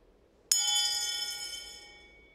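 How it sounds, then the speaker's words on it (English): Single soft strike of the kai-chinle bell for lights out at Eiheiji Soto Zen temple, a clear ringing tone that sustains and slowly fades over two seconds in a quiet hall. "The monks go to sleep with the ringing of the kai-chinle."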